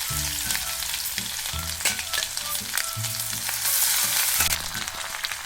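Pepper, cumin, cashews and ginger-garlic paste sizzle and crackle loudly in hot oil for pongal tempering, with a constant hiss and bursts of popping and stirring, and no voices.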